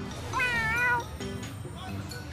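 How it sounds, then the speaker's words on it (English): A cat gives one clear drawn-out meow in a Tales of Xillia 2 cutscene, close and distinct, followed by softer background sounds and a hint of speech. "This cat belongs to our biggest advertiser."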